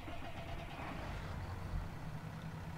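A Claas tractor engine in a farming video game runs at a steady, close, moderately loud drone with a low rumble and no talk over it.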